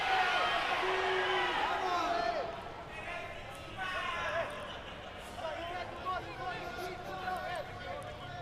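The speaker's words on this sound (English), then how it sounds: "Great reaction from the crowd here as well." Football stadium crowd roaring and cheering after a goal at a Singapore Premier League match, Tanjong Pagar United against Hougang United, a dense, sustained wash of noise that eases slightly partway through while voices and a commentator talk over it.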